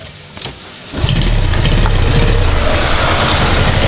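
A Yamaha Jupiter motorcycle engine, one with a faulty starter, cranks and fires at about one second, then settles into a steady, loud, close idle that runs to the end with no talk.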